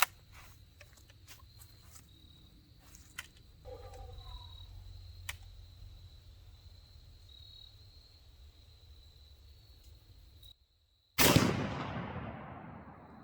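A .44 Magnum revolver fires a Hornady 240 grain XTP round into ballistic gel outdoors, a single sharp, loud blast near the end after a quiet stretch with faint insects and ambient hiss.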